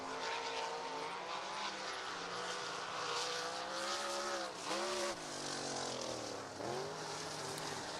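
Dirt-track 360 sprint car engines roaring at I-90 Speedway as the 12 car loops around outside turn two in the dry dirt, with engine pitch rising and dipping through the spin and other cars droning by, loud and continuous.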